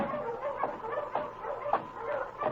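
A team of sled dogs in the Yukon yelps and barks, a string of excited yips and short barks repeating roughly every half second at moderate distance.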